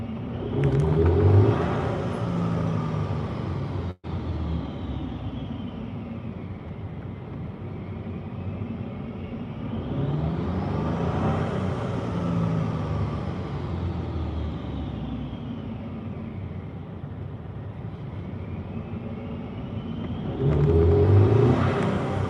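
A car engine rises and falls through several long accelerating sweeps with a hesitant, delayed pickup, revving up, easing back, then climbing again as steady road rumble and whir continue throughout.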